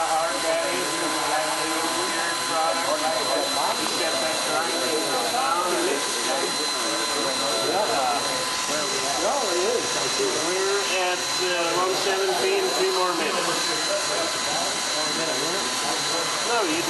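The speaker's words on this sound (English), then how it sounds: "Take out the grinder. Grind it all down to the inside." A grinder chews down cured GacoFlex S-20 coating during a hands-on training session, a constant loud whirring roar with wavering tones, while people talk over it.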